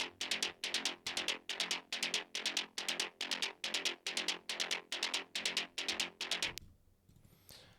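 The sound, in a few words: trance straight runner synth bassline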